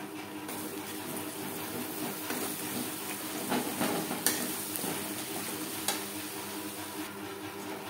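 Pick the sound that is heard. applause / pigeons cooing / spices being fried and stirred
spices being fried and stirred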